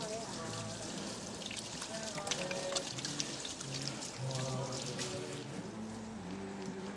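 Tap water runs and splashes over items being rinsed in a kitchen sink, a continuous patter and trickle, with faint background voices.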